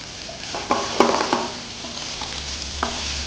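Diced tomatoes cooking in a pan after ginger and garlic, with a spoon stirring and scraping in a series of clear clinks and scrapes over a low steady sizzle, close and alone, for a spicy brinjal fish curry.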